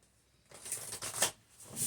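Cards are shuffled close by, with several quick riffling bursts after a short quiet start.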